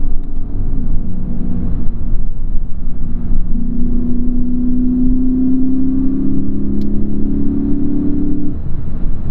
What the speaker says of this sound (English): But man, revving up this engine is really the highlight.